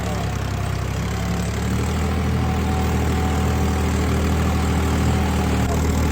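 A new 855 tractor's engine runs at a steady idle, a loud continuous low diesel rumble with a droning hum that holds unchanged throughout, close by with no voices.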